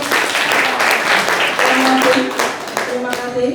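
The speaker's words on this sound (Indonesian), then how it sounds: "Kita beri tepuk tangan dulu untuk" Loud, dense applause from a crowd at a debate fills the space, steady clapping that thins slightly toward the end with a voice partly audible beneath.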